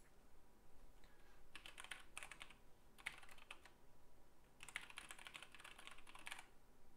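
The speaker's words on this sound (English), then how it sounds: "So here's just me typing in." Typing on a computer keyboard while trying to log in during a programming session, heard as two quick bursts of clicky keystrokes, fairly faint and close, with a pause between them and no talk.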